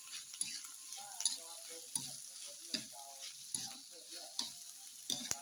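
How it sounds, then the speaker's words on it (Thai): Vegetables sizzle in hot pork fat with garlic in a pan, a soft crackling bed broken by regular clicks and scrapes of a spatula stirring, fairly quiet and close. "อ่าเดี๋ยวผมเริ่มใส่ผักนะครับเดี๋ยวกระเทียมจะไหม้เกินไปนะครับ"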